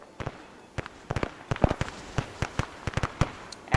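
Battle explosions in the video game Arma 3, heard as a rapid, irregular series of sharp cracks and pops, crackling like distant fireworks at moderate volume, with no speech.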